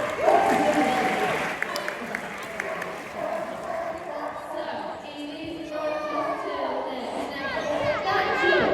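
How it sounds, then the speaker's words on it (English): An audience at a sea lion show at a safari park claps, mixed with excited children's chatter and shouts. A presenter's voice carries over the crowd noise, and the applause rises and falls throughout. "Give us a clap."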